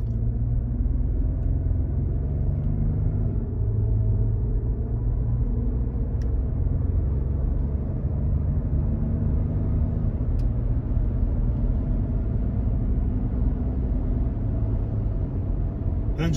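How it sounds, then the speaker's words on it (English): A 2019 Toyota Highlander LE V6 with an 8-speed automatic coasts down the road, heard from inside as a steady, loud low rumble of road and engine noise that continues evenly throughout. "take note of how smooth this ride is and how quiet this vehicle is, just coasting down the road"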